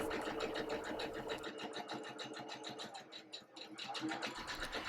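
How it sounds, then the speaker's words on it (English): A sewing machine sews a zigzag stitch to hold down a monogram appliqué, giving a fast, even run of needle clicks up close with a brief slowdown partway through. "I selected the zigzag stitch on the machine. As I begin to sew"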